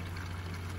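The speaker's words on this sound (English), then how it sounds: "The water's going straight down." Water drains straight down a sink or basin without swirling, a faint, short, steady trickle and pour heard close up, with no one speaking.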